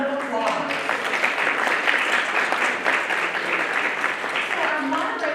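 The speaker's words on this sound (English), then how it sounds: "let's give them a round of applause." An audience applauds in steady, sustained clapping that stays loud and even throughout, with the crowd's hands producing a dense rustling roar and a voice faintly mixed in.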